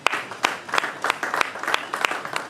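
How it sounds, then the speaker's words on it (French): An audience applauds at a tribute event: sparse, uneven clapping with sharp individual claps standing out in an irregular rhythm over a softer wash of hands, moderately close and with no voices. "est-ce qu'on peut applaudir pour lui, s'il vous plaît?"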